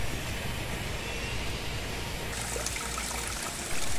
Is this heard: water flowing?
yes